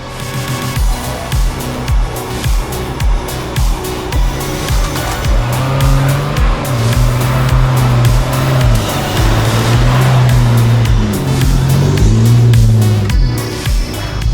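A 4x4 with locked differentials guns its engine hard up an iconic snowy off-road trail, a loud, sustained, surging roar with repeated throttle swells and rising revs, close by and without talk.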